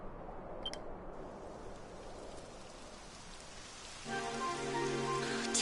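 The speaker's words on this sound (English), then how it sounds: "It would have to go and start raining, wouldn't it?" Rain in Dragon Quest XI, a steady soft hiss of falling drops, quiet at first and then joined by a low tonal game ambience that swells in the last seconds, with a brief beep near the start.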